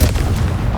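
A Confringo explosive spell goes off in the Hogwarts Legacy video game, a loud, dense burst of booming blasts crowding the whole short moment with heavy low rumble and no pause.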